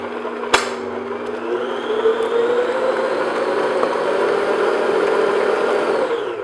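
An electric hand mixer beats chopped pecans into pumpkin roll filling, a steady whirring motor hum after a sharp click at the start, close and continuous without talk.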